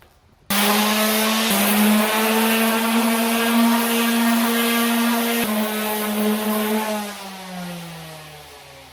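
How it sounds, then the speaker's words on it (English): A small handheld palm sander drones steadily over a freshly painted surface coated three times, starting abruptly and holding a loud, even buzzing whine for several seconds before slowing as it winds down, with no talking. "Got my little palm sander here."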